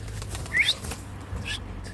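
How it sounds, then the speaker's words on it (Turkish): A smoky-coloured tumbler pigeon is startled off the ground and flaps its wings in a few brief, soft fluttering bursts over a low steady background. "korkutarak onu kaldıracağım"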